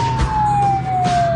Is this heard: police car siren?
yes